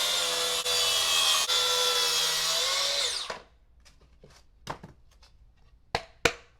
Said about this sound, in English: Alright, cut my piece of plywood,